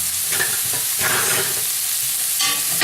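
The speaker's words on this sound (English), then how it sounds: "Just gonna toss them on in there." Vegetables tossed into a hot pressure cooker pot while making pulled pork sizzle loudly and steadily up close, with a few stirring scrapes and rustles over the constant hiss.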